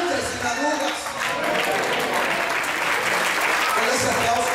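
Congregation applause during a pastor's sermon, a continuous, full roar of clapping with crowd voices mixed in, steady and fairly loud throughout.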